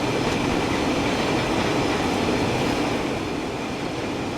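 A British Rail Class 101 diesel multiple unit rushes past in the Train Sim World 6 simulator on the West Coast Main Line at Shap, giving a steady, loud rumble of wheels and rail noise throughout, with no talk.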